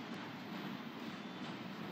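A train rolls slowly past near the US–Mexico border, giving a steady, close rumble and rattle of rail cars that holds evenly throughout with no talk.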